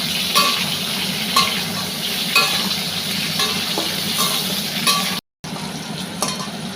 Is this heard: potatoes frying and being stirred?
yes